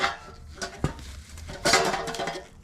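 A loose aftermarket muffler on an Ultima RS kit car is jiggled by hand, giving bursts of metallic rattling and clinking from inside, close and moderately loud, with no talking.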